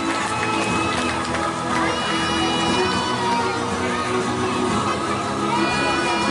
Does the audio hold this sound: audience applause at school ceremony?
yes